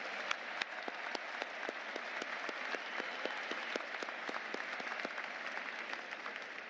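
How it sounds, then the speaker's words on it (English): Audience applause at a Florida State University spring commencement ceremony, steady dense clapping from a large crowd filling the whole stretch with sharp individual claps standing out, no voices. "So let's give them a round of applause,"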